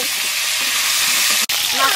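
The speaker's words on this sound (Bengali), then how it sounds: "মাছটা ভাজা হয়ে গেছে, এখন আমি নামিয়ে নেব।" Stingray fish frying village-style in a pan, giving a steady loud broadband sizzle throughout with a brief dropout near the end.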